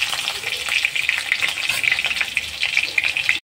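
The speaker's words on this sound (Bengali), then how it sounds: "টমেটো আর রসুন এদিকে আদা আলুগুলো ভাজতে দিয়েছি" Potatoes frying in a pan with tomato, garlic and ginger give a dense, bright, continuous sizzle with crackling pops up close, cutting off abruptly at the end.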